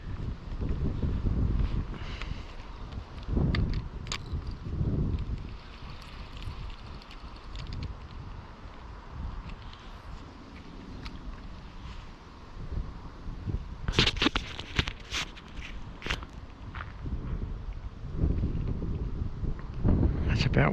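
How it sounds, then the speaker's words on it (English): Downstream wind blows across a river and buffets the microphone in a steady low rumble, with gusts swelling and fading throughout and some higher rattling bursts in the middle. "The downstream wind is pretty annoying."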